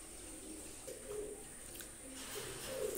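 Pair of Royal Teddy pigeons giving soft, low repeated coos, faint against a steady background hiss.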